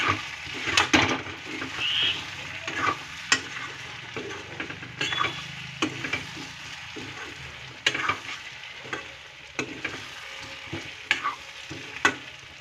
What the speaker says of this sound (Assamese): এইখিনি ভালকৈ লৰাই দিব।